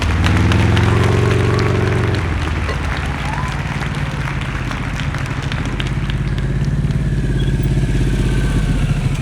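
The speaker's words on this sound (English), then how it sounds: "Ah, a glide stop. That's a glide stop." A motorcycle on a training course during a group riding lesson performs a glide stop, its steady engine drone running loud and close, the pitch dropping sharply partway through as it coasts and settles into a lower idle.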